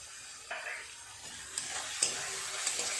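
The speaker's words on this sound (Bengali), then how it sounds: "খুব ভালো করে সমস্ত মশলা কষিয়ে নিয়েছি" Spice paste with tomato and a spoonful of sugar frying in a pan, a soft steady sizzle broken by scraping stirs and a few sharp clinks of the spoon against the pan.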